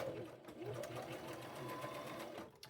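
A sewing machine stitches fabric during an upcycling project, running in a continuous close mechanical whir with a steady rapid needle rhythm and a brief pause near the end.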